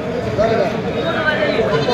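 A goat bleats repeatedly at a busy livestock market where goats, sheep and chickens are sold, its wavering calls mixed with crowd noise and nearby people talking.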